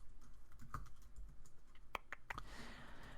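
Quiet, close clicks of a computer keyboard as code is typed, a handful of irregular keystrokes with short pauses between them, no one speaking.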